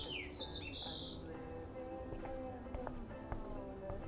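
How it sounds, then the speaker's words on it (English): A small bird trapped indoors in the video game Life is Strange gives a few bright, high chirps near the start, then thin, sparse calls over a low room hum and faint clicks. "that poor little bird has been trapped in here"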